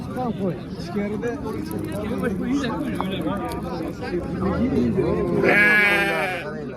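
Sheep bleat repeatedly at a crowded livestock market in Chust, Namangan, several animals calling near and far under constant bargaining voices, with one loud close bleat near the end.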